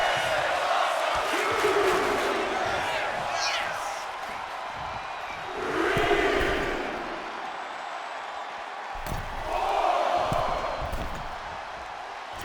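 In the WWE 2K25 wrestling video game, crowd noise swells in waves that rise and fall over several seconds. A steady commentary voice talks over it throughout.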